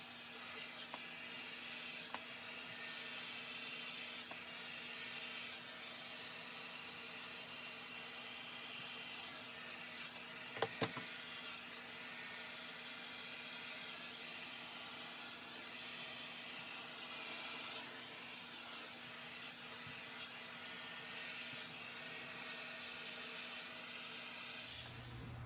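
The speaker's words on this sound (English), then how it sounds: "I'll just film a minute of me blowing it dry with this hairdryer" A handheld hairdryer blows freshly keratin-treated hair dry, a steady, close, broadband whoosh with a low motor hum that holds evenly for the whole stretch, with only a brief knock partway through and no talking.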